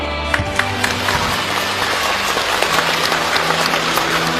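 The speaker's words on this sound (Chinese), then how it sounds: "现在我要把我们今天最隆重的掌声献给远在天堂上的袁老师" Theatre audience at a commemorative Yue opera performance breaking into sustained, loud applause, dense clapping from a large crowd filling the whole stretch.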